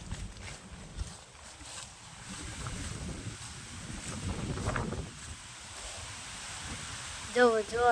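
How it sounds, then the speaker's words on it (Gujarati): Strong wind sweeps across an open farm field, a low, rough rumble buffeting the microphone in uneven gusts, with faint voice sounds and a short high whistling sound near the end. "જો જોરદાર પવન લાગી રહ્યું છે."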